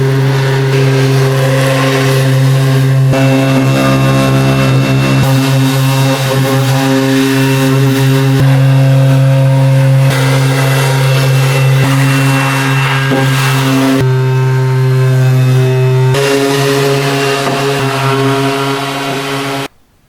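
Power sander doing heavy sanding on a wooden storage rack, a loud, steady, close motor whine with strong hum tones and shifting grinding texture as pressure changes, running continuously for about twenty seconds before cutting off.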